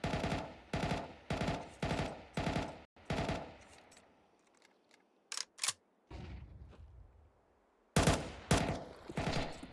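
Rapid automatic gunfire from a Counter-Strike match on the Anubis map at a pro tournament, loud repeated bursts that stop for a quieter stretch of scattered shots and clicks before a final close barrage.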